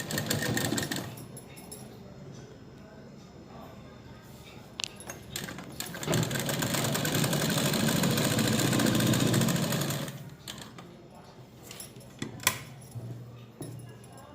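A sewing machine stitches a pajama seam, running in a long steady whir that builds and then stops, with shorter bursts and handling clicks before and after.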